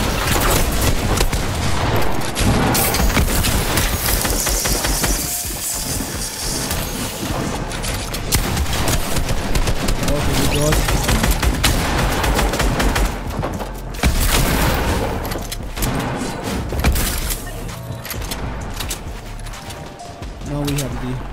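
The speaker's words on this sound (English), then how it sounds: "This time we have the purple shotgun," A purple shotgun fires repeatedly in a video game, loud booming blasts mixed with dense game effects and background noise, with a voice talking over much of it.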